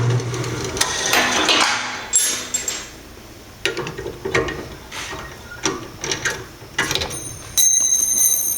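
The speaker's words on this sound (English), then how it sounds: "see how fast we can put a pilot hole in?" Drilling a pilot hole in steel on a drill press, with a run of uneven metallic clanks, scrapes and grinding bursts that start and stop, close and moderately loud.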